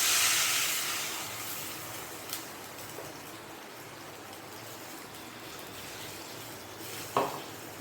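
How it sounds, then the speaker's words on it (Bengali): Water poured into a pan of well-fried spice paste, letting off a steady steamy hiss that fades over several seconds, with a couple of brief clinks. "জল দিয়ে দিচ্ছি।"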